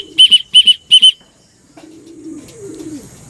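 A racing pigeon arrives at the loft during a race: three sharp paired electronic whistle bursts ring out, followed by soft low fluttering and cooing close by.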